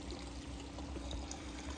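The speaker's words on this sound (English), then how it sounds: "through the skimmer there, which is pulling water in" Water steadily pouring and churning into a swimming pool skimmer while the vacuum runs in clean mode, a continuous close, even rush with no talking.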